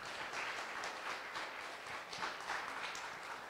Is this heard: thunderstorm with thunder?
no